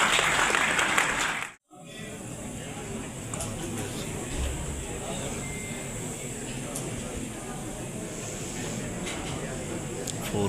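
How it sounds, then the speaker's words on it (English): A crowd applauds a four-party MOU signing at a cultural festival in Islamabad, with steady clapping that breaks off briefly near the start and then resumes. "Let's give a huge round of applause for this historic commitment."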